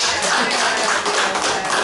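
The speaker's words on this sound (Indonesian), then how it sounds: "Tepuk tangan apresiasi." A roomful of people at a school discussion give a short burst of appreciative hand clapping, a dense, steady patter of many hands heard close and fairly loud.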